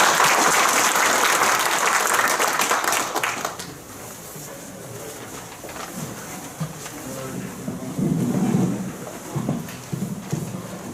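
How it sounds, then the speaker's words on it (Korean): An audience claps loudly to welcome a lecturer at a 2021 sports coaches' training course before a sports human rights session; the applause lasts about three seconds, then drops to a quiet room with faint shuffling and a brief later rustle. "임다연 강사님을 박수로 맞이하여 주시기 바랍니다"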